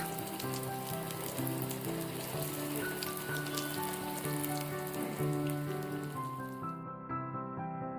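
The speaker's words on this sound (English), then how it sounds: "Add the cabbage dumplings one by one." A steady, dense sizzle of cabbage dumplings frying in hot oil, crackling continuously and fairly close throughout.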